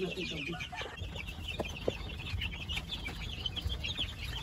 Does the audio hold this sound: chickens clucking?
yes